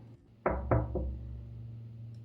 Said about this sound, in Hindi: तभी धीरे से बाहर से कोई खटखटाने की आवाज देता है।